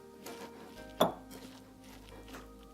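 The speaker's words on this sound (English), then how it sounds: "I'm going to mix this." Guacamole is being mixed with salt in a bowl. One sharp clink of a utensil against the bowl rings out, surrounded by soft, close stirring and scraping.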